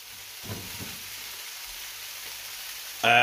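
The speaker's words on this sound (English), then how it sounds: "So I'll carry on frying these" A steady, soft sizzle of Spam frying in a griddle pan, with a few brief clatters of a utensil and a louder burst at the end.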